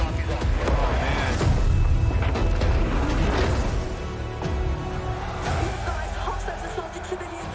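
A heavy explosion from the Call of Duty Modern Warfare reveal trailer bursts out loud and rumbling, with a deep, dense roar that slowly settles over several seconds.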